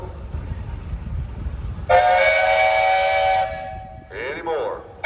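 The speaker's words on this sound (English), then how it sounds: "you got a whistle?" A steam engine whistle at the National Thrashers Association steam show sounds one loud, sustained, rich blast of about a second and a half over a low engine and crowd rumble, followed by a couple of softer, shorter sounds.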